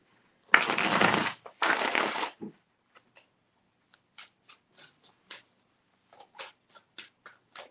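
Tarot cards are shuffled up close, with two long riffling bursts followed by a run of quick, crisp taps and flicks as the deck is handled, in a quiet room with no voices.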